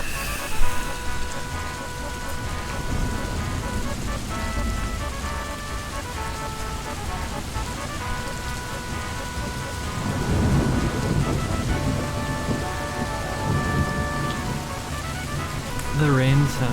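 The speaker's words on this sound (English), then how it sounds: "The rain sounds." Steady heavy rain pours down with a dense, even hiss, low rumbles like distant thunder rolling beneath it, and faint tonal hum lines running through the wash.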